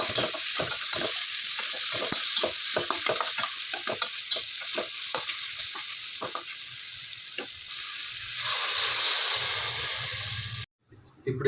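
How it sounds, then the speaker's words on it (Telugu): Salt, chilli powder, coriander and cumin being stirred into a sizzling pan for kothmir upma, with a steady fry hiss broken by frequent scraping spoon strokes, close and loud throughout, ending in a brief drop to near silence. "మిర్చి పౌడర్, ధనియా, జీలకర్ర వేసుకొని కలుపుకుందాం"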